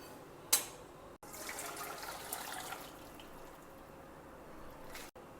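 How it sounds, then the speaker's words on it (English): Water drained from soaked sevai, a steady soft pour and trickle after a brief clunk, running a few seconds with no talk. "Now we'll drain out the water."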